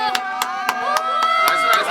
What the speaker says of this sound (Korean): 와 박수 한번 주세요 여러분.